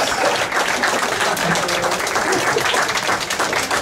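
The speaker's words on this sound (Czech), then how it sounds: "Na místě 5. a velký potlesk" Steady applause for a bowling club award winner at a season prize ceremony, dense continuous clapping from a gathered crowd throughout, fairly loud and close.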